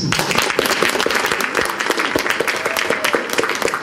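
Loud, sustained applause from a large audience, dense rapid clapping filling the whole stretch without a break.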